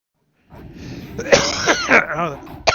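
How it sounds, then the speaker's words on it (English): Throat clearing and coughing performed aloud by a voice acting out a character during a tabletop fantasy role-playing session; a rough burst of coughs and rasping clears follows a short silence, close and fairly loud. "Just need to clear his throat, and then he'll be fine."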